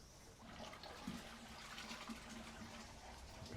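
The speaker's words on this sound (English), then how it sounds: "I can hear a flush. So that's the toilet." A toilet flush heard through household plumbing while pipes under a bath are checked for rats: a faint, steady rushing of water that runs for the whole stretch and seems distant.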